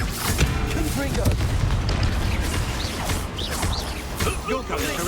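A Confringo fire spell is cast in the Hogwarts Legacy video game, with loud booming blasts and crashing impacts over a dense, continuous battle mix, and voices are heard within it.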